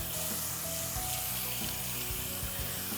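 Water from a running tap splashes steadily over hands being rinsed at an indoor sink, a continuous close hiss with no talking.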